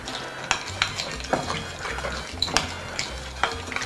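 A spoon stirring a sauce with mustard and pepper, soft repeated scraping and clinks against the bowl at an irregular rhythm, close but faint, with no talking.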